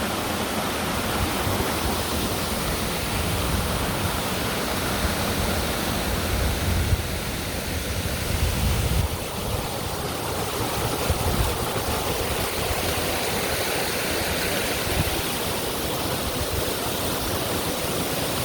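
A waterfall roars in a steady, loud, broadband rush of falling water, close by and continuous for the whole stretch with slight swells in intensity and no talk.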